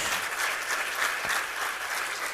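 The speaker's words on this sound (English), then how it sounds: "So please put your hands together." An audience at an awards ceremony claps to welcome a speaker on stage, giving an even, continuous burst of applause from a large crowd.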